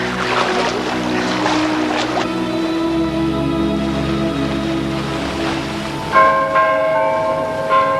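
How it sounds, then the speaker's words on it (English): Church bells ringing for a wedding in a small fishing village at sunset, sounding as sustained resonant tones over a steady wash of water and boat noise, with a brighter ringing strike near the end. "the church bells are ringing for a wedding in the little fishing village"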